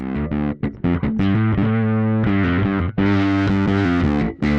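Bass guitar played through a Darkglass Kaamos pedal with its drive distortion engaged: loud, gritty sustained notes and short plucked stabs, close and dry, with brief gaps between phrases.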